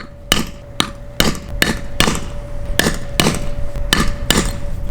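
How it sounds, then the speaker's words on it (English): A rock hammer scoring a line across a brick, with about nine sharp, ringing metallic strikes at a steady, close, loud rhythm, each blow leaving a brief clattering tail. "So here, I'm gonna use my rock hammer."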